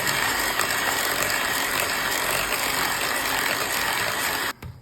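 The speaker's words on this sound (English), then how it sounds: "you'll need your hand mixer. Like that. And we're going to mix this up." An electric hand mixer whirs steadily and loudly as it beats oil into batter, a continuous buzzing drone that cuts off abruptly at the very end.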